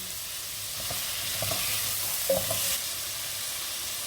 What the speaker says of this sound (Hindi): सब्जियों को गला नहीं देना, इनको बस हल्का सा आपने फ्राई करना है